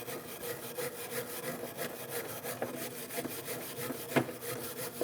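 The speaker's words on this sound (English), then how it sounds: "Clean the caliper bracket where the pads are going to sit." Steady back-and-forth scrubbing rasps against the brake caliper bracket of a BMW X1, moderately close and rhythmic, with one sharper scrape near the end and no talking.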